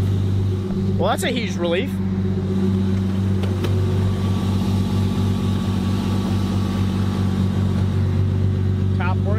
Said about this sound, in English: All right, well now it's idling, so that's cool.